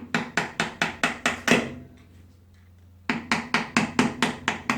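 A hammer strikes a 4x4 transfer box part in a workshop, a rapid series of about six sharp metallic whacks, a brief pause, then another run of six hard, evenly spaced blows close to the mic.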